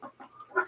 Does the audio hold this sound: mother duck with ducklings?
yes